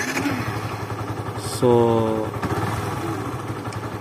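Yamaha FZS V3 motorcycle engine running steadily, with a brief rising whistle-like tone appearing as the throttle is released; a person speaks briefly over the mechanical hum.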